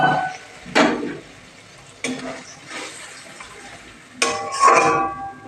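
Milk mixed from powdered milk is poured into fried spice masala in a pan for a stuffed pointed gourd curry, with a splash and sizzle, then a couple of clinks of a utensil against the pan.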